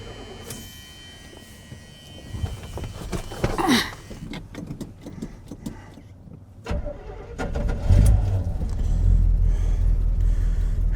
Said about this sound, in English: Had to pump it a couple of times, but it did fire up.